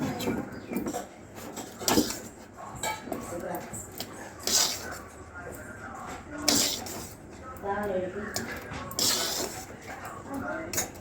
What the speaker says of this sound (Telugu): అట్లా స్పూన్తో మిక్స్ చేసుకోవాలి.